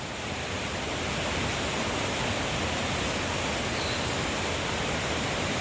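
A river flows past a wooded resort near Manali, making a constant dense rush of water that fills the whole stretch evenly, loud and unbroken.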